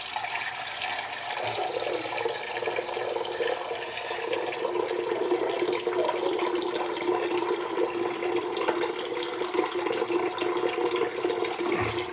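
Water pours and splashes steadily for several seconds, a continuous close trickle as it is drained off soaked semolina into a container, with no talking.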